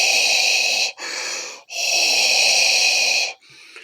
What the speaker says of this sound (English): you can hear the breathing before you even see Vader show up on screen